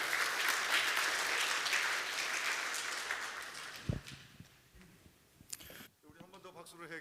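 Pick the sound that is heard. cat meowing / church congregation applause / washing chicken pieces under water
church congregation applause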